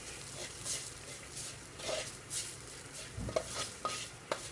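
Chili and spice powders dry roasting in a pan over medium heat for a Sri Lankan fish curry, with steady scraping and stirring, a soft sizzle, and a few sharper clicks of the utensil against the pan near the end.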